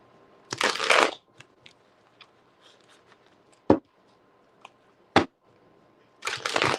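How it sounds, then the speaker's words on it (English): A deck of playing cards is riffled and bridged in close, crisp bursts at the start and again at the end, with light taps and card handling in a quiet room between them. "let me just shuffle these and then we can get started."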